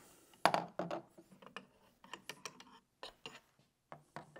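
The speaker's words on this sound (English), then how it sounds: "Loosen the barrel nut the rest of the way" An action wrench works a rifle barrel nut loose, producing a sharp opening clank followed by a string of irregular metallic clicks and taps, close and fairly quiet, with no talking.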